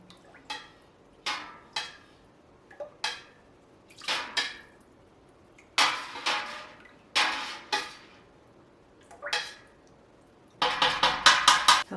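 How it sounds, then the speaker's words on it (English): Culture being stirred into goat milk in a pot for cheddar, rhythmic swishing strokes in repeated bursts, ending in a quicker flurry of stirring, close and clear with no talk. "So I'm going to mix this in."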